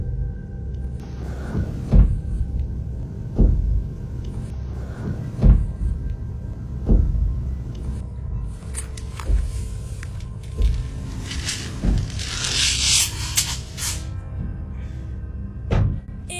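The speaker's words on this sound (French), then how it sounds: "fatigués d'un étrange bruit de coups dans la maison" Strange knocking sounds from inside a wardrobe in a house, heard as irregular dull thuds and knocks spread across the stretch, some louder and closer, over a low background rumble.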